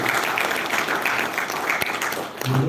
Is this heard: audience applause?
yes